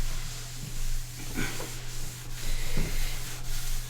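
Wax being rubbed by hand into a snowboard base during tuning, a steady scratchy rubbing with several stroke accents over a constant low hum, close and moderately loud, no voices.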